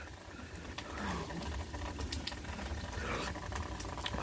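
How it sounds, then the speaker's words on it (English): Light rain patters steadily outdoors during a lightning storm, a soft broadband hiss with scattered sharper drips close by, continuous and even throughout. "so it just happened to start raining"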